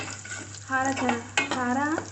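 Red chili powder and turmeric frying in hot oil for a coconut sambar, a steady sizzle with stirring and scraping in the pan while someone speaks over it.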